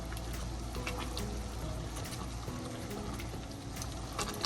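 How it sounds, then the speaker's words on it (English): Homemade scuppernong grape jelly with sugar and a pat of butter at a rolling boil in a pot, making a dense, continuous bubbling and popping roar that stays steady throughout. "it's coming to a rolling boil after we added the sugar"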